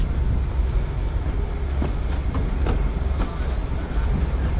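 The Bilimora-Waghai narrow gauge heritage train rolls along after leaving Dholikuva station, a steady rumbling ride with faint rhythmic wheel clicks over the rails, heard from on board.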